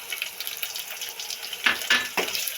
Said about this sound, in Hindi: इसको भूनेंगे।